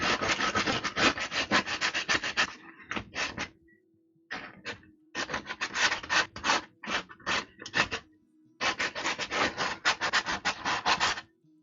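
Hand sanding of a thick carved wooden penguin, loud rasping strokes in quick rhythmic bursts separated by short pauses, close and dry with no talking.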